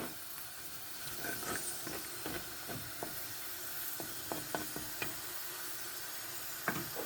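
Garden eggplant and unripe plantain, skin still on, fry in hot oil with a steady soft sizzle and hiss, broken by scattered light knocks and stirring clicks from the pan.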